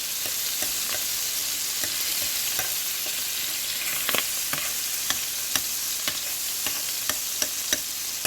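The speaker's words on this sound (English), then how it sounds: "Okay, so I got my butter melted down." Butter melting and sizzling in a pan for a spooky Halloween popcorn mix, with a steady soft fry and scattered crackles and pops that grow sharper toward the end, heard alone without talk.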